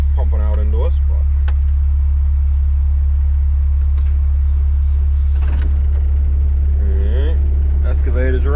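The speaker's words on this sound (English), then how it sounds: "Truck's kind of loud there. The exhaust pumping out into us" A loud truck engine idles close by, its exhaust producing a constant heavy low drone that dominates throughout while people talk intermittently on a farm dirt-work site.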